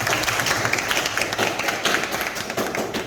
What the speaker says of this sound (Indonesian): Nah, aplaus dulu untuk teman-teman.